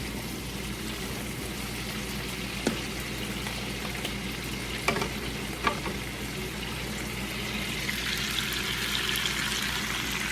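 Vegetables seasoned with salt and pepper sauté in a pan with a steady, fairly quiet sizzle, broken by a few sharp clicks and pops, with no talk.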